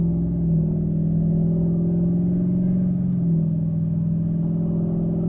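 Diesel engine of an LML pickup truck pulling at part throttle in tow haul mode, a steady deep rumble with gears held long, one gentle pitch shift midway, close and continuous with no talk.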